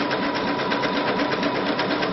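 A sewing machine fitted with a circular tool attachment runs continuously, moving the fabric by itself in a fast, even mechanical buzz with rapid needle ticks, loud and close.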